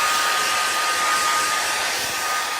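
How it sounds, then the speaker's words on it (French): A hair dryer blows with a steady, loud, airy whoosh close by, holding a constant tone for the whole stretch with no talking. "alors le sèche-cheveux, c'est pas fini les gars."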